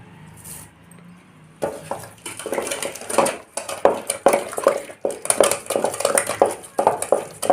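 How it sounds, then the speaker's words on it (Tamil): Cooked lentils and spinach greens with onion and chilli being churned and mashed in a pot, a steady run of rapid scraping and knocking strokes that grows busier and louder after a quiet start. "பருப்பு கீரை வெங்காயம் மிளகா எல்லாம் ஒன்று சேர்ந்து நல்லா மெய்கிற மாதிரி நம்ம வந்து கடைஞ்சி எடுத்துக்கலாம்"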